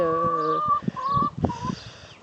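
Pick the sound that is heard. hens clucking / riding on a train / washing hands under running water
hens clucking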